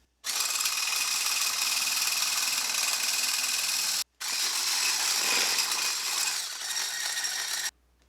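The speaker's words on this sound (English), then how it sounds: "So whisk some in there and then beat this into your whipped cream." An electric mixer beats tempered gelatin into whipped cream for a low-carb chocolate Swiss roll, giving a loud, steady high whirring drone that breaks off briefly partway through and then resumes.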